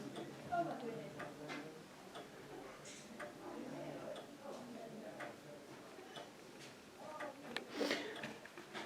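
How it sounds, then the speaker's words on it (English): A long case clock ticks in a quiet room, faint and regular, under soft talk from people nearby. "Can you hear the ticking?"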